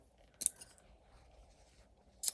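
Pinking shears cut through a fabric seam allowance for a sewing project making a welding cap, two short crisp snipping crunches spaced apart, close and quiet.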